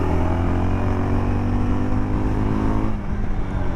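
A Yezdi Adventure motorcycle engine held at high revs, a steady, loud droning hum that dips as the throttle eases near the end, with no voices.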